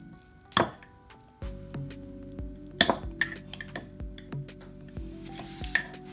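Utensil stirring a mixture in a container in a home kitchen, scattered clinks and taps against the sides with a couple of louder knocks, close and quiet.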